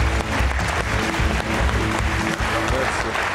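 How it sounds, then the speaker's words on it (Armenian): A studio audience claps for guests on a television show, with steady, dense applause running under speech throughout the clip. "Լավ, ծափարում ենք մեր հյուրերին, ասում ենք առաջ։"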